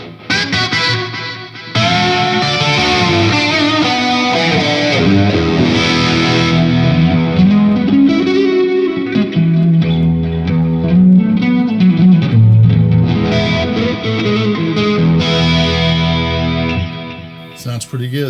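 A distorted electric guitar plays sustained chords and melodic lines through a Donner Arena 2000 multi-effects pedal set to plate reverb, with a lush, lingering reverb tail washing around the notes.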